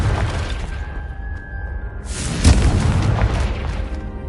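A Confringo explosion spell bursts in Hogwarts Legacy with a loud booming blast and crackling debris, following a quieter stretch with a faint tone.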